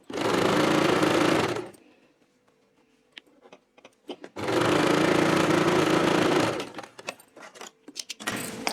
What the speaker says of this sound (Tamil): லைனிங் வச்சு அடிக்கிறேன்.